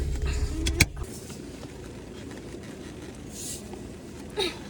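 Dodge Omni car running after new spark plugs, wires and coil, a low steady engine rumble from inside the car with a sharp click early on and a few faint rattles.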